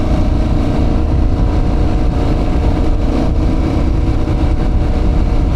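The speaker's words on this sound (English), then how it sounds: "It's quite a pleasant sound to the engine exhaust." Aprilia Tuareg 660 motorcycle with a roughly 660cc engine, its exhaust giving a loud, steady, close low rumble throughout, with wind noise and no speech.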